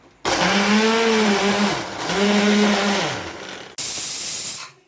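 A mixer grinder blends green chillies and garlic in a loud whirring run that dips and rises, cuts out briefly, then gives a second short burst before stopping.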